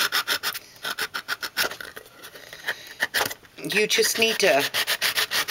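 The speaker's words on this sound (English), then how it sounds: "a sanding block, and you just have to rough it up" A sanding block rubs and scuffs across a painted pickle jar in short repeated rasping strokes, close and fairly loud, with a person talking over part of it.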